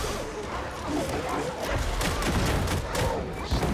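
Pistol gunfire from the video game Warhammer 40,000: Darktide, a rapid string of close, punchy shots blending with crashes and combat clatter in a dense, continuous barrage.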